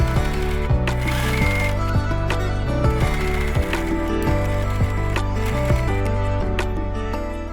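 Sewing machine stitching a corset top close up: a loud, steady mechanical whirr with regular rattling needle ticks, running continuously without pause.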